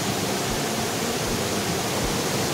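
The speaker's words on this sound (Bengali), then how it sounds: "এইখান থেকে বয়ে যাচ্ছে জলটা, বয়ে গিয়ে" Water pours down a monsoon-swollen waterfall in a steady, broad rushing roar, continuous and unbroken, with no voices.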